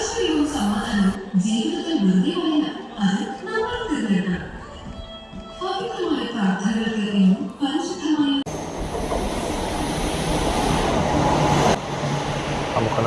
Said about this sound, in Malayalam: നമുക്കുള്ള ട്രെയിൻ എത്തിയിട്ടുണ്ട്